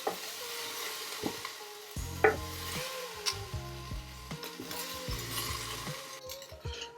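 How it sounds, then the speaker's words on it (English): Beef browns in a Ninja Foodi pot with a soft, steady sizzle, broken by the scrape and clink of a utensil stirring and lifting the meat, close and fairly quiet. "get your meat browned"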